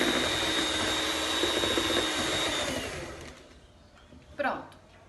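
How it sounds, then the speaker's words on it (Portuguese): An electric stand mixer beats yam-flour brownie batter with a steady, loud whirring drone for about three seconds, then winds down and stops, followed by a brief clink and quiet room tone. "Agora, a gente vai bater por mais 1 minuto na batedeira."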